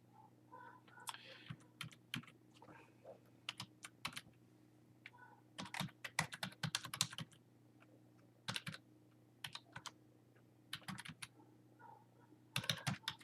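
A computer keyboard is typed on while credit card charges are entered in QuickBooks, producing quiet bursts of close key clicks with pauses between them over a low steady hum.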